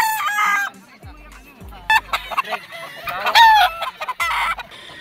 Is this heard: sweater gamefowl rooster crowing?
yes